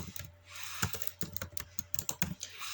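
Typing a disk partition command on a computer keyboard under Windows 11, a quick irregular run of light key clicks heard close up and fairly quiet, with no talking.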